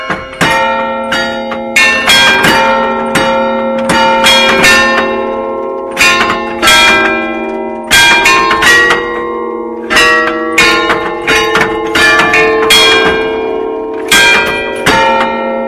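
Church bells peal in bright, overlapping strikes, a loud and close run of repeated ringing tones that keeps going with resonant decays and no voices.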